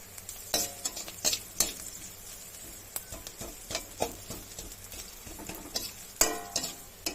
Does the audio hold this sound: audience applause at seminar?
no